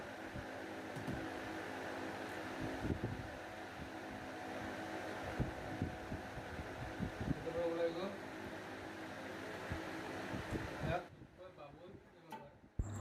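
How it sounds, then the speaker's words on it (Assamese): A laminating machine runs during mobile display glass repair, a steady whirring hum with clicks and handling noises beneath someone talking, then it cuts off abruptly near the end, leaving near silence. "তো লেমিনেটৰ মেচিন হয়, সেইটো টেষ্টিং হ'ব।"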